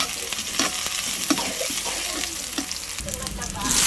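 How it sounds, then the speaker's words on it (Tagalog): Food sautéing in a frying pan gives a steady close sizzle, with scraping stir strokes and light clinks of a utensil against the pan throughout. "Ayan, magigisa na tayo."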